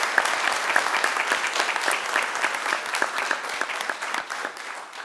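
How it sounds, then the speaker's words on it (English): An audience at a 2018 Officer of the Year award presentation applauds, a steady burst of dense clapping that fades slightly near the end with no speech over it. "give me a round of applause for him"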